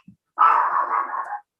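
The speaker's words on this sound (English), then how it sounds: "Excuse my dog, if you can hear him." A single drawn-out dog bark or whining yelp comes from a dog indoors during a home yoga class, lasting about a second, moderately loud and close, with no voices over it.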